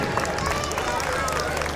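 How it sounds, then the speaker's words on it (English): Applause from parents in an audience at a student presentation event, dense and steady clapping throughout with a murmur of crowd noise underneath. "big round of applause for Yune Jain, grade 6"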